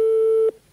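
A telephone busy tone after a call is cut off: one steady, loud electronic beep held for about half a second, then stopping abruptly and leaving faint line hiss.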